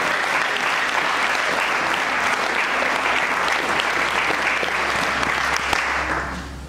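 A church congregation applauds together in praise of the Lord after a sermon prayer, a loud, dense and sustained clapping that fills the room and tapers off at the very end.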